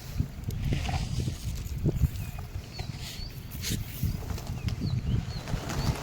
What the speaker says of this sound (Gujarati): મિત્રો જોઈ લો કેટલા કબૂતરા થઈ ગયા